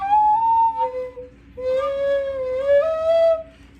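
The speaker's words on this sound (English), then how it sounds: "If you do partially cover a hole, you'll get something that sounds like this." Native American style flute played with a finger partially covering a hole, giving wavering, breathy notes; two phrases of sustained tones that bend and slide in pitch, separated by a brief gap, with no talking.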